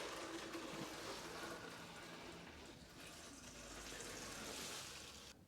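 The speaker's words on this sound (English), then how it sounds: "that's been draining now for 5–10 minutes, slowed down to a steady drip" Engine oil drains from the sump of a 2013 VW Caddy 1.6 diesel, a faint, continuous trickle of liquid running steadily without a break.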